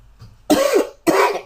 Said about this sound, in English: Excuse me for coughing in your ear.